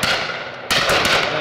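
A shotgun fired at a pheasant during a driven pheasant and partridge shoot in Dorset, one sharp broadband blast cutting in over outdoor ambience, loud and fairly close, with a faint voice nearby.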